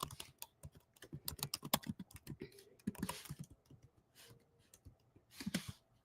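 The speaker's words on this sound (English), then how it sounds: "I'm typing for Instagram." Quick, uneven bursts of typing on a computer keyboard: close, crisp key clicks in rapid runs with short pauses between them, fairly quiet overall and with no talking.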